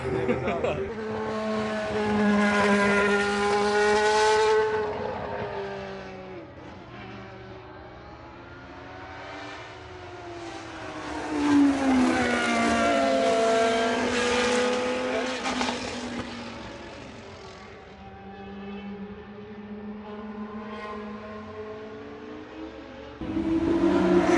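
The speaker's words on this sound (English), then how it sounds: "I hope you guys can hear me over the F1 cars right now, which are so ridiculously loud." Formula 1 cars at an Italian car show roar past in loud, rising and falling waves of high-revving engine whine, several passes in succession over about twenty seconds, with a voice speaking over the din.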